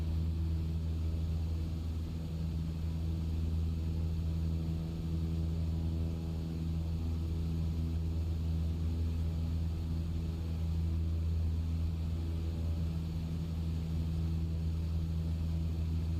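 Steady, loud drone of a propeller aircraft engine in flight over the Shetland Islands near Sumburgh Airport, an unbroken hum with strong low tones held for the whole stretch, no voices.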